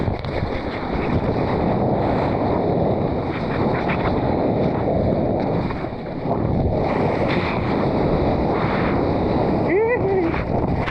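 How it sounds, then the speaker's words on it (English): Ocean surf session in France: a constant roar of rushing water and wind buffeting the microphone, loud and close, as a wave is ridden, with a voice briefly heard near the end. "I paddled out maybe 1 minute ago and I'm gonna catch my first wave"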